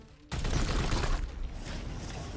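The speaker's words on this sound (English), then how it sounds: "Explosion!" Explosion in the Warhammer 40k Chaos Gate video game, a sudden loud burst after a quiet lead-in, holding as dense roaring noise for about a second and then settling into a lower rumbling tail.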